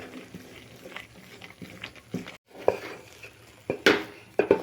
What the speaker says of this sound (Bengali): এভাবে অনবরত নাড়ব।